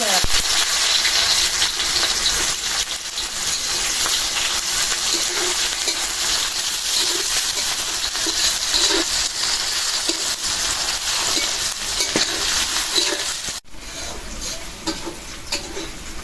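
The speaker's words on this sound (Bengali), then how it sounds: "পেঁয়াজটা ভাজা হয়ে গেছে" Onions fry in hot oil for hilsa pulao, producing a loud, dense, continuous sizzle and crackle that fills the whole stretch. A brief dip near the end interrupts it, and no speech is heard.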